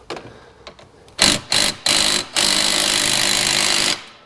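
Impact gun spinning a 16 mm socket on a bolt during a Bennche/Massimo/Odes/HiSun UTV head gasket job: a few short sharp bursts, then a long sustained hammering rattle, loud and close.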